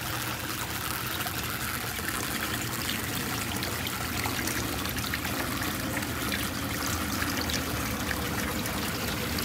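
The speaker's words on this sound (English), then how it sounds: "So if this gets this plug, there's a way for water to escape, or else it'll spill over" Water from a garden pond pours steadily out through an overflow gap, a continuous close splashing stream with no break.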